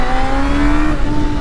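Loud Honda CB400 Super Bol d'Or motorcycle engine revving close by, its pitch climbing steadily as the motor winds up into VTEC, with a strong, continuous whining drone.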